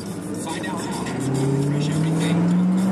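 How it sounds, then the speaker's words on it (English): A 1984 Lincoln Mark VII engine held at half throttle, a steady rising drone that climbs gradually in pitch and loudness, close by, with a voice talking over it at times. "Just giving it a little half throttle there"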